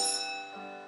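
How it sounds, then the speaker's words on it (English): A video game school bell rings out in one bright, sustained electronic tone that starts loud and slowly fades, heard alone with no talking. "School bell."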